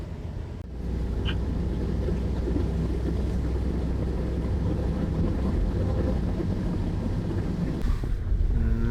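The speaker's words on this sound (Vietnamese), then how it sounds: "trời mưa gió như này" Wind and rain outdoors roar as a steady, broadband rush that swells in after a brief quiet start. It continues at an even, moderate level with no voices.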